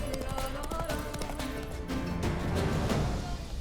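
A horse's hooves gallop in The Witcher 3: Blood and Wine, a quiet, rapid rhythmic clip-clop running throughout beneath game sounds and a low voice.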